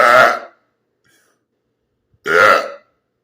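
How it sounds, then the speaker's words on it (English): A person burps loudly twice, right into a close microphone, each burp about half a second long, separated by nearly two seconds of silence. "so we can definitely burp like right in the mic, so you can really hear it"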